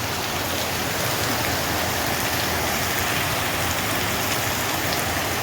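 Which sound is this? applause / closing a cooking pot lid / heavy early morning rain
heavy early morning rain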